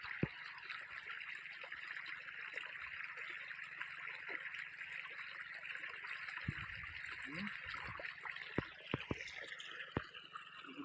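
Water from a solar-powered borewell pipe flows in a steady, continuous rush close by, with a few knocks and splashes near the end.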